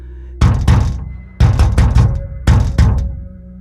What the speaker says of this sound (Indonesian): Tiba-tiba pintu kamar sebelah diketuk dengan keras, seolah-olah ada yang mau masuk.